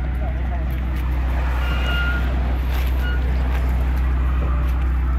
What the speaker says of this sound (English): I'm just letting it idle.